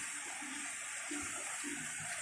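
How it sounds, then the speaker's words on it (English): Mountain water runs steadily past a stairway at a resort campsite, a continuous rushing wash of moderate level with no voices. "where the mountain water runs"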